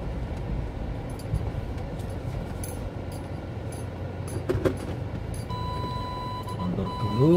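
A car backs into a parking spot on a busy street in old Jeddah, with traffic rumbling throughout and a thin electronic reversing beep emerging near the end.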